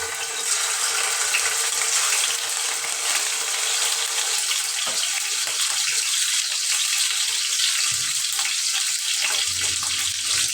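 Hilsa fish frying in oil, giving a dense, continuous hissing sizzle that holds steady and close throughout, with no talk.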